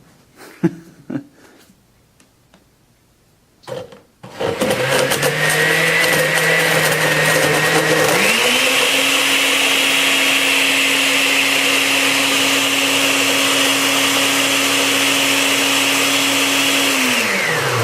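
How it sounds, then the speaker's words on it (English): An 8-speed Osterizer blender mixes a pain-killing formula, starting after a few faint clicks with a loud, steady motor whir, then shifting up to a higher, harsher speed and running on continuously, close by. "I'm going to blend this up a little bit."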